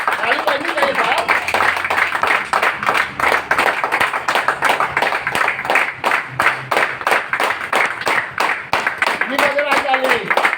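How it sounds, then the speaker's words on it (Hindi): An audience at an indoor meeting claps steadily and rhythmically, with sharp, evenly spaced claps filling the whole stretch and a voice briefly audible near the end. "ताली कीजिए, बजाते रहिए।"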